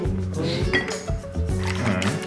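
Rapid clinking of a whisk against a bowl beats three eggs with a splash of milk in a quick, continuous rhythm, close by.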